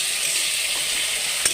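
Chopped tomato hits hot oil with spices for a gravy, a loud close steady sizzle lasting the whole short moment with one brief stir knock near the end.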